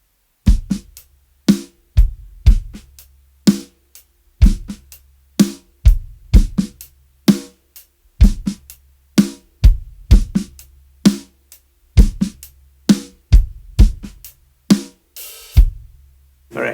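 Slow drum groove exercise built on ghost notes, with soft snare taps between louder hits and kick and snare accents repeating in an even pattern, played alone and close.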